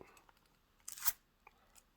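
Sealed 50-gram tin of Mac Baren HH Acadian Perique pipe tobacco pried open with keys: a short, close scraping, tearing burst near the middle, followed by a few faint small clicks in an otherwise quiet room.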